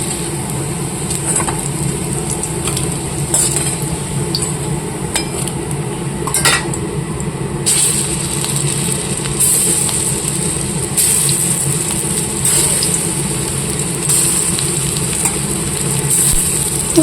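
Boras fry in a little oil in a pan, a steady close sizzle throughout, punctuated by clinks of a metal utensil against the pan and scattered scraping.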